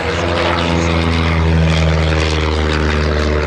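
A Chipmunk propeller aircraft flies at an air show at Old Warden, its piston engine and propeller droning loud and close with a steady, throbbing hum.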